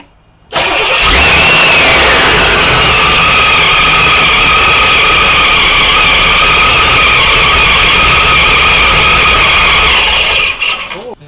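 A supercharged V8 Corvette engine runs loud and steady at idle, not idling correctly, a constant throaty drone with a high whine on top, starting abruptly and cutting near the end.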